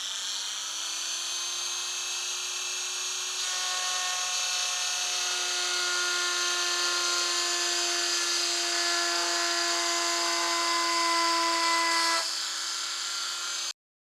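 A power tool digging out a crack in a gel coat Carrera RS bumper, a steady high-pitched whine held for about thirteen seconds, close and loud, then cutting off abruptly.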